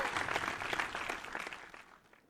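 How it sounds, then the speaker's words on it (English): Audience applause at a Mrs South India pageant event, a dense, close burst of clapping that fades steadily over about two seconds. "one huge round of applause for all of us"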